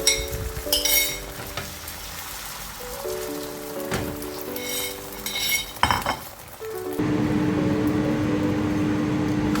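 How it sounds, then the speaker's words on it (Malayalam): Omelette frying in coconut oil in a hot pan, a crackling sizzle punctuated by spatula scrapes and clinks, then a sudden louder, steady hiss of frying in the final seconds, close up with no voices. "ഇപ്പോൾ പാന് ചൂടാകുമ്പോൾ കുറച്ച് വെളിച്ചെണ്ണ ഒഴിച്ചു കൊടുത്തിട്ട് ഞാൻ ഈ ഓംലെറ്റ് ഒന്ന് സെറ്റാക്കി എടുക്കുകയാണ്"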